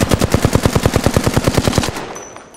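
Sustained automatic gunfire in the Apex Legends video game, a rapid, evenly spaced burst of loud close shots lasting about two seconds before cutting off into a fading tail.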